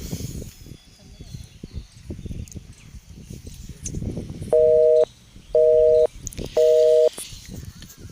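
Muffled talk and background noise give way to three identical electronic beeps of a phone busy signal, evenly spaced.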